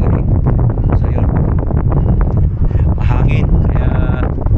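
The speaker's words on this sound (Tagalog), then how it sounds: "mahangin, malikabok itong pwesto ko" Strong wind batters the microphone at a dusty outdoor spot, a loud continuous buffeting rumble throughout, with a voice seemingly talking under the noise.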